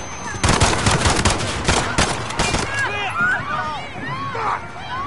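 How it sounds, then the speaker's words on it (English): Modern Warfare campaign video game firefight: rapid close gunshots and bursts of automatic fire in the first half, followed by chaotic shouting voices and scattered noise. "Shots fired, officers down."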